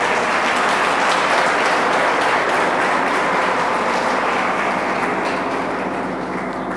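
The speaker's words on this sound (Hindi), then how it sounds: "Ladies and gentlemen, why not to give a big round of applause?" Sustained applause from a seated audience at a talk event, a dense continuous wash of many hands clapping that stays loud and steady throughout with no voices over it.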